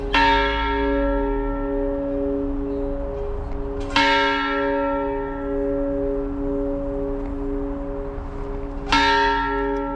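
A Catholic church bell rings before mass in San Diego, California, with three loud strikes spaced several seconds apart, each leaving a long resonant hum that fades slowly.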